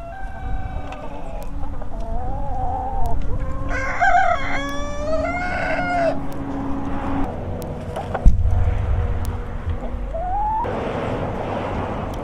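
A rooster crows several times, loud and close, each call rising and stretched out, with a low vehicle rumble running underneath and a brief thump partway through.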